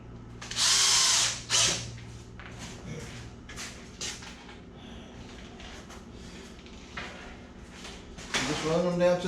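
Cordless drill driving screws into a wooden gate built from an adjustable gate frame kit, with a loud whirring burst near the start, a shorter one after it, and a final run at the end, separated by quieter handling and brief talk.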